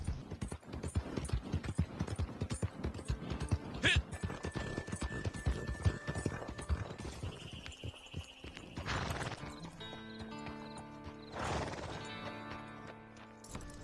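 Horse hooves from the video game Red Dead Redemption 2 Online clop steadily on hard ground for several seconds, then slow, followed by scattered mechanical clanks and a brief bright rattle.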